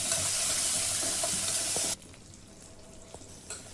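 Onions and curry leaves frying in a pan for tomato rice give a loud, steady sizzle that suddenly drops to a quieter crackle halfway through, with a few soft clinks of stirring after.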